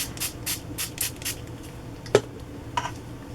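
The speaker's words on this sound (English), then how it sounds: "And I'm going to spray." Repeated short hissing spritzes from a spray bottle, about five quick bursts in a row, then a soft tap and one more faint spray.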